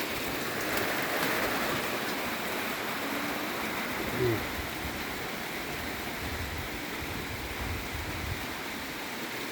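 Steady nighttime rain falls throughout, a dense, even hiss with a faint patter on surfaces and no pauses.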